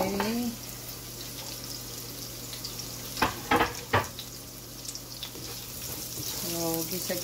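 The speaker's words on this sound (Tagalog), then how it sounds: "Dito sa ating pinagprituhan, ilalagay natin ang ating bawang at sibuyas." Garlic and onion sautéing in frying oil left from cooking meat, for lomi, with steady broadband sizzling throughout, a few sharper clanks of stirring in the middle, and a voice speaking over the sizzle at start and end.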